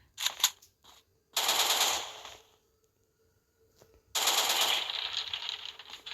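Automatic gunfire in a Minecraft game with a gun mod, a short opening burst followed by two long, loud rapid-fire volleys separated by a quiet gap of a couple of seconds.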